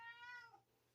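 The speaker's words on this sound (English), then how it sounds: "my cat's in the background meowing" A cat meows once in the background, a single drawn-out tonal meow that falls in pitch, faint and somewhat distant over a low hum.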